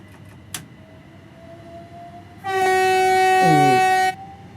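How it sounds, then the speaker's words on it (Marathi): A long, loud train horn blares for about two seconds in the video game Train Sim World 3, cutting in sharply over low engine rumble and a faint earlier click, on a Ramsgate to London Victoria service. "use the horn"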